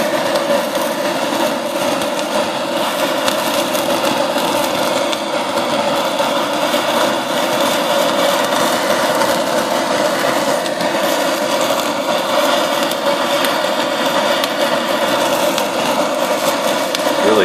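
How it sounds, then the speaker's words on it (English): A blowtorch roars continuously while searing a thick, fatty bone-in prime ribeye after sous vide and seasoning, a steady loud hiss with no pauses and no talk over it. "here we go, torching the prime ribeye."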